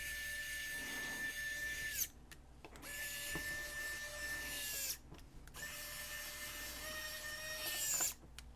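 A WORKPRO mini electric precision screwdriver runs in steady high-pitched whirring bursts of about two to three seconds each, separated by short pauses, with no talking over it.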